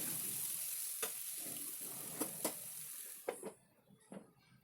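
Ivy gourd frying in a pan, a steady close sizzle broken by several short clinks and scrapes of stirring, the hiss dropping away near the end.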